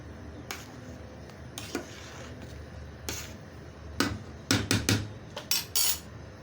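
Food with chili is stirred in a pan, a spoon scraping and clanking against the metal in sharp, irregular knocks that grow busier and louder toward the end.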